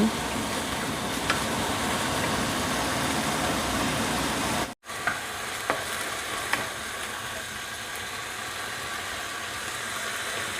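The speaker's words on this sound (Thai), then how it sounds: "ผัดให้หมูสุกก่อนเนาะ ค่อยมาปรุง" Minced pork stir-frying in a hot pan for a Thai bamboo-shoot dish, a steady close sizzle with scattered scrapes of the utensil and one brief dropout midway.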